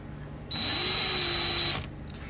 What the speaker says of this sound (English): I'm probably better off putting the bit in the drill